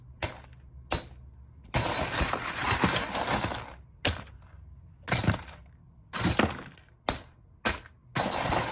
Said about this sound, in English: I love the glass bottle effect.